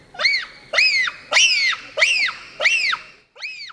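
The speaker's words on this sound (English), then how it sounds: "Those high-pitched screeches are a sophisticated form of communication" Bonobos give a series of six loud, high-pitched screeches, each a sharp rising-and-falling call spaced about half a second apart, heard close and clear with no talking.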